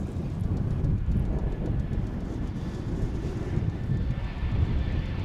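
An airplane coming in from Puerto Vallarta, Mexico lands at Dallas/Fort Worth Airport, heard as a steady, broad engine roar that holds at moderate loudness throughout.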